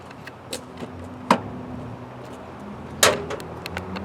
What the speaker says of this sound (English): I'm going to pop the hood.